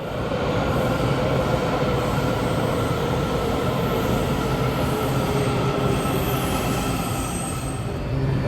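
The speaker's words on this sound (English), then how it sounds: "Let's take the metro to Woodley Park and check it out." A Washington DC Metro subway train riding toward Woodley Park, with a loud steady rumble, wheel roar and a high squeal from the rails, heard from inside the car.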